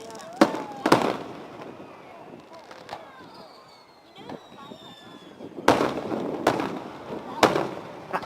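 Fourth of July fireworks burst in sharp, loud cracks, a few early and a dense cluster near the end, with whistling tails and crackle between and people talking faintly in the background.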